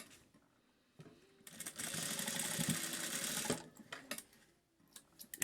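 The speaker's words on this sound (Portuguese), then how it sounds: "Passo uma costura com um pé de máquina." A sewing machine runs a steady, continuous stitch of about two seconds through fabric and a zipper, joining a lining right side to right side, with quiet handling noises before and after.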